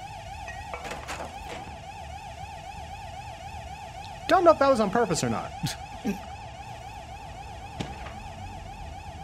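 A wavering electronic alarm from the video game Control sounds steadily throughout, with a louder burst of game noise midway, while someone talks over it.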